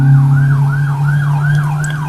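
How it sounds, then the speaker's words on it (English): Police car sirens outside, a loud wailing siren rising and falling in steady repeated sweeps over a low engine hum, fairly close and continuous. "As you can hear police cars."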